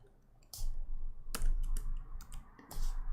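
Code is typed on a computer keyboard in short bursts of rapid, close clicking, separated by brief pauses.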